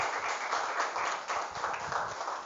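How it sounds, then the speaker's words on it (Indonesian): An audience applauding together at a motivational talk at an Aisyiyah Islamic boarding school, a dense fairly loud stretch of many hands clapping continuously with small surges. "Tepuk tangan untuk kita semuanya people."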